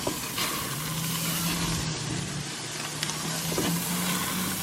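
Shrimp sizzling steadily in a hot pan, a loud, continuous frying hiss with faint stirring sounds and no talking.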